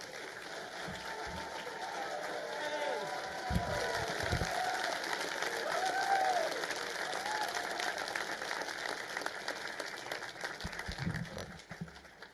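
A conference audience gives a warm round of applause for Dr. Steven Greer, a dense, steady wash of clapping that fills about twelve seconds and thins out at the very end.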